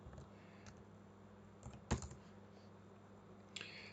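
A password is typed on a computer keyboard in a few quiet, close key clicks, one slightly louder than the rest, against a faint steady room hum.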